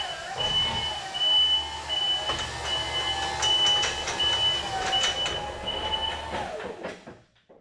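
A used scissor lift bought at auction rolls along with a steady motor whine, a low droning hum and faint rattles, loud and close, before cutting out near the end.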